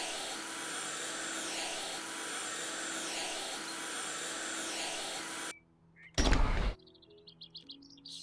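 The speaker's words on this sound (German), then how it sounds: "es wird kurz laut, aber auch nicht lauter als der Staubsauger gerade" A vacuum cleaner in the video game House Flipper runs with a steady, whining drone, then cuts off abruptly, followed by a brief loud burst and scattered quieter game sounds.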